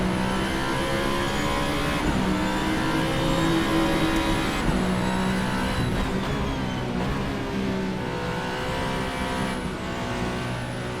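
Alpine A424 race car in Assetto Corsa, engine howling at high revs with steady tone and gear-change shifts, continuous and close, with faint tire noise underneath.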